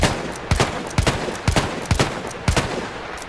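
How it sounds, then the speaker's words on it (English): Revolver shots in Battlefield 1, roughly seven or eight loud sharp cracks in quick uneven pairs and singles, each dying into a short echoing tail. "Secondary gun is the revolver."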